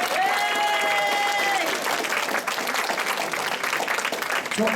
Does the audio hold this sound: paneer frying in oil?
no